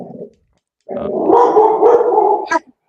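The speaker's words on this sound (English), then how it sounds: "Your dog made my dog mad, damn it." A dog barks and growls at close range, one short yip, then a sustained loud growling bark lasting over a second and a half, ending in a sharp final bark.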